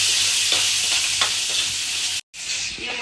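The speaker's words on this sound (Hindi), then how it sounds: "ये मसाला लगभग हमारा भून गया है, तेल थोड़ा ऊपर आ गया" Masala and scooped-out tinda filling frying in oil in a pan, a continuous bright sizzle with stirring scrapes, briefly cut to silence near the end before sizzling resumes.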